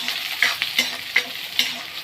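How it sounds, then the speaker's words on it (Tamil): Small shallots sauté in a pan for fish curry, a continuous sizzle broken by regular scraping stirs that come roughly every third of a second, close and moderately loud with no voices. "சின்ன வெங்காயம் போட்டோம், நல்லா கொஞ்சம் வதங்கிட்டோம்"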